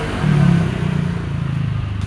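A motorized tricycle engine approaches from a distance, its mid-pitched chugging idle swelling slightly then holding steady with a rough, pulsing rhythm and no talk over it.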